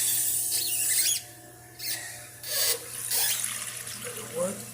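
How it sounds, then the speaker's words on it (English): Water runs into a toilet tank after a new flapper is installed, a faint hissing flow that rises and falls in short bursts, recorded close up in a quiet bathroom. "Turning on the water."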